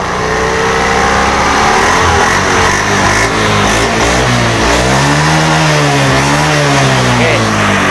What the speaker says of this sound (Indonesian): Yuk kita gas dikit-dikit di awal gas.